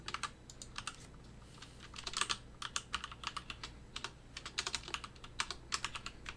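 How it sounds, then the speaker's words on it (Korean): Computer keyboard keys clatter in a quick irregular run of crisp clicks over a low steady hum, close and alone, as a Ctrl+W shortcut is pressed amid other typing. "컨트롤 W로 누르면 꺼지죠"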